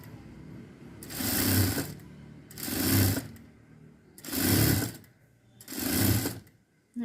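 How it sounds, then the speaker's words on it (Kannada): Sewing machine stitching a patchwork blouse, four separate bursts of rapid whirring stitching, each about a second long, with short pauses between them, close and clear. "1/4 ಇಂಚಷ್ಟು ಸ್ಟಿಚ್ ಹಾಕ್ತೀನಿ"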